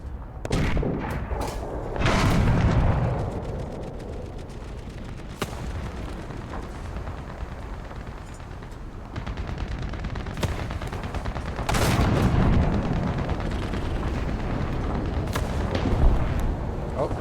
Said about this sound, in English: There's a American heavy shooting at me.